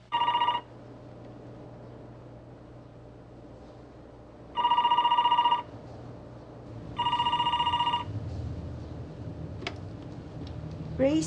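An old-style telephone bell rings three times in long bursts with pauses between, fairly loud, before a voice begins to speak.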